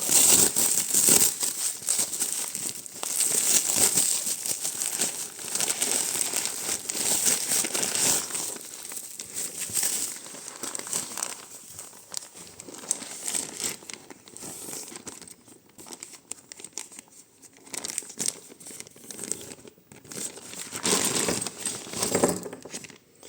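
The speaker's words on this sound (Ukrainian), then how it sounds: "От я розпаковую" Continuous crinkling and rustling of wrapping as a parcel of vintage rings is unpacked by hand, close and steady with occasional sharper crackles, no speech.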